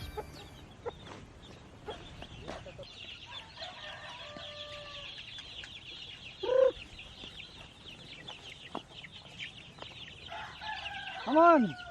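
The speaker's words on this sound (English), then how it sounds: "Now we will feed our native chicken." Native chickens and chicks cluck and chirp at feeding time, with scattered calls throughout and a rooster crowing loudly near the end, while a voice is heard faintly.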